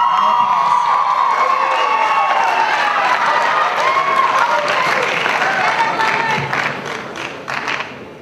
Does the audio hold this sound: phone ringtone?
no